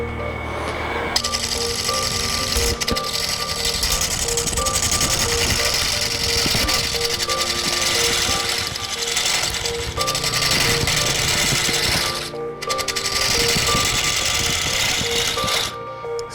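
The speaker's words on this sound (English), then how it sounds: "Time for the bowl gouge." A bowl gouge cuts into a spinning wooden log on a lathe, giving a loud, continuous rough chatter and scraping over a steady motor hum, with brief dips in the cutting as the tool lifts off the wood.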